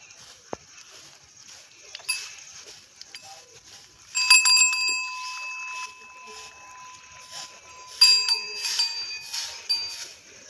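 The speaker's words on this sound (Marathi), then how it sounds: "बैलाच्या गळ्यात घंट्या असल्या ना, वाजलेलं आपल्याला ते ऐकायला बरे वाटते." Bells tied around a bull's neck jingle in a few bright, intermittent bursts, quiet at first and then louder clusters of ringing, with faint movement between them.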